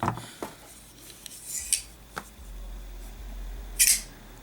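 A few sharp metallic clicks and snaps ring out, one brighter flick near the end as a Hoback Midtech Kwaiback titanium folding knife blade flips open, close and otherwise quiet.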